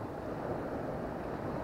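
Sea washing onto the shore at a fishing spot after a day of northerly wind, a soft, continuous surf hiss with light wind rumble and no voices.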